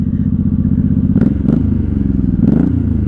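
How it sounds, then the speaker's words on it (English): Idling engine of a 1983 Honda Shadow VT750C 750 project motorcycle, a steady low rumble held close throughout, with a few brief clattering knocks over the idle. "Alright, she's idling good."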